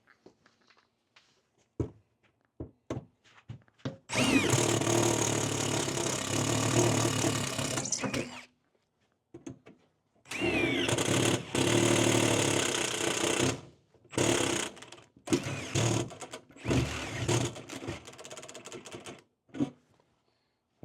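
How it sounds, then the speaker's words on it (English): A Milwaukee drill fitted with a step bit cuts through aluminum, in loud grinding bursts of several seconds each, separated by pauses and short clicks and taps. "I'm going to take my step bit. I will use the hole in the aluminum as a kind of a drilling guide."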